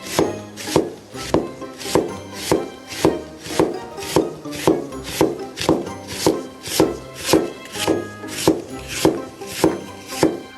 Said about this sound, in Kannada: ನೀಟಾಗಿ ಸ್ಲೈಸ್ ಮಾಡ್ತಾರಲ್ಲ